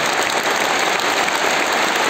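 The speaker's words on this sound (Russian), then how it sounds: "Давайте их поаплодируем как следует." Dense, steady applause from a large crowd at a formal concert for Russia's Marine Corps Day, loud and continuous throughout with no voices standing out.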